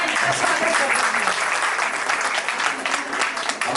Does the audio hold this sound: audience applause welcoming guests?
yes